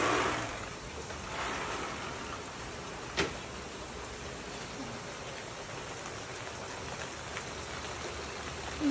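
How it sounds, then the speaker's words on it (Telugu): Summer rain falls outdoors in a garden, a soft, steady hiss of drops with a few louder patters and a brief sharp tap, fairly faint and without voices. "ఇది సమ్మర్ సీజన్లో వర్షం,"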